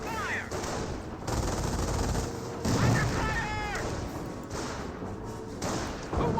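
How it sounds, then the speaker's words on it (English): Anti-tank gun shots hitting a building in the strategy game Company of Heroes, heard as repeated heavy thuds and bursts amid a dense wash of battle noise, with a voice talking over it. "AT gun looks like firing some shots there into the building itself."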